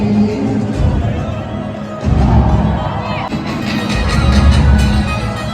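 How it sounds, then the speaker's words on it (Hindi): A large crowd at a Navratri Garba night at NESCO in Mumbai makes a dense, loud murmur of voices and shouts, with heavy low rumble and bursts of cheering throughout. "बहुत भीड़।"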